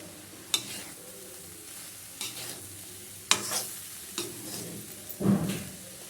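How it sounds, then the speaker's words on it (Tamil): Carrot rice being stirred and mixed in a pan, a soft continuous sizzle broken by several sharp spoon scrapes and knocks against the pan at irregular intervals. "சாதத்தை போட்டும் இப்போ நம்ம நல்லா கலரிக்கலாம்"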